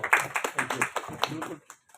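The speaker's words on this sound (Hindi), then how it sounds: "सबसे पहले उसके लिए तालियां एक बार" A seated audience at a senior citizens' association monthly meeting claps in a quick, uneven patter for about a second and a half, close and moderately loud, then stops.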